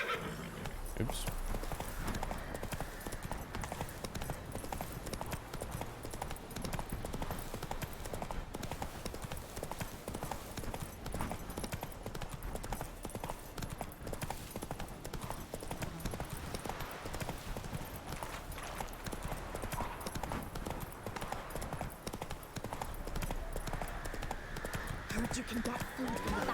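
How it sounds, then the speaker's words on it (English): Horse hooves clip-clop steadily in The Witcher 3 video game as the mount is ridden, with occasional neighs and game music and effects throughout, plus talk over the top. "I'll just ride Roach over there, I think"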